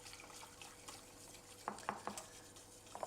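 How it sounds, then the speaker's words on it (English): A whisk stirs fresh cream into a sauce over very low heat for poached fish, giving soft, faint swishes with a few light metallic taps against the pan and no talking. "First thing we do is add some fresh cream, like so, and whisk that gently in."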